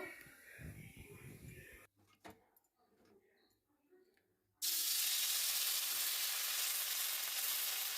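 Oil in a kadai sizzling with vegetables and parboiled rice pitha, a loud, steady hiss that bursts in after a quieter stretch of clatter and stirring, with some background noise earlier.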